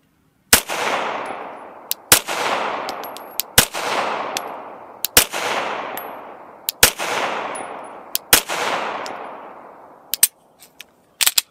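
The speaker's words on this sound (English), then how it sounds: "We're going to shoot slow, see how it does, and then we're going to shoot fast." Pistol shots from a handgun with a Legion Precision compensator firing 124 grain rounds, about eight loud sharp cracks fired slowly at a steady pace, each followed by a ringing decay, then a few quicker lighter clicks at the end.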